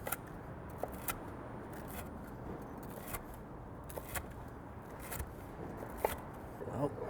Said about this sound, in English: They're literally just going to cut this into little cubes to make our grilled cheese croutons.